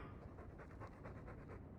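A dog pants steadily in quick, rhythmic breaths, faint and close against a low background hum, with no voices.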